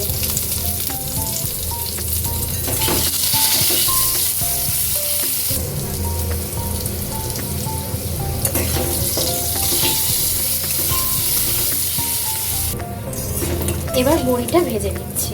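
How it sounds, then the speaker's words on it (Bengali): Long strips of potato sizzle steadily in hot oil with salt and turmeric, a continuous loud frying hiss broken by occasional utensil clinks and stirring, while background music plays throughout. "লম্বা লম্বা করে কেটে রাখা আলুগুলো ভেজে নিচ্ছি নুন হলুদ দিয়ে"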